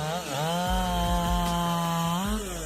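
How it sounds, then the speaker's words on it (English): A Husqvarna 371 XP chainsaw with a 70.7 cc engine cuts through oak, its loud steady engine drone dipping in pitch under load and rising again, close and continuous with no talk. "this chainsaw cuts through towering oak trees like a hot knife through butter"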